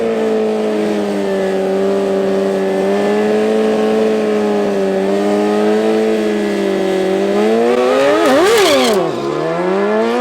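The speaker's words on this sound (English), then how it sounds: "First up in the bike class is Wynand going up against Lomari" Motorcycles in a bike-class drag race at Tarlton International Raceway club event, engines droning steadily loud and close for several seconds, then a sharp rev surge and pitch swoop near the end.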